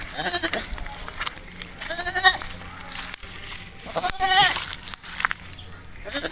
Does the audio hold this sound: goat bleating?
yes